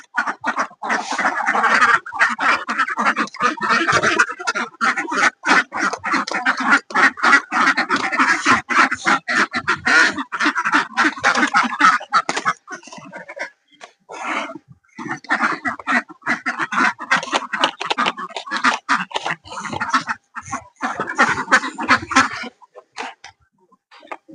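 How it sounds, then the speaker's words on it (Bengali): A large flock of ducks on a duck farm quacks loudly and continuously, dense overlapping calls filling the whole stretch with only brief lulls. "হাঁস দেখুন"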